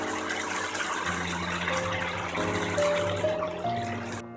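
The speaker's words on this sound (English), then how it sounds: "Add water till the chicken pieces are covered." Water poured into a pot over sauteed chicken pieces for Indian-style chicken soup, a steady continuous gush that stays close and loud throughout with faint tonal ringing underneath.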